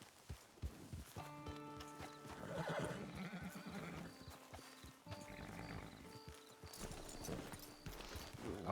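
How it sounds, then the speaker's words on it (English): A horse near a camp neighs and whinnies in several drawn-out calls while its hooves clip-clop at a walk beneath, fairly quiet and close, with no talking. "Get your horse."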